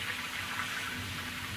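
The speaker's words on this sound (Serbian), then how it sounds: "Ovdje ide voda." Water flowing in the video game Gold Rush: The Game, heard as a steady, even rush that holds at one level throughout, with no talk over it.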